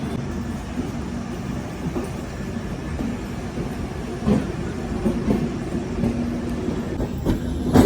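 A passenger train on an Indian railway journey rumbles steadily along the rails, with a continuous low roar and faint rhythmic clicks of the wheels from inside the coach.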